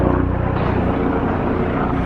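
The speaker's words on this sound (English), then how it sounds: "And there's a helicopter flying over right now." Helicopter flying overhead, a loud steady rotor and engine drone with dense low throbbing, continuous and close.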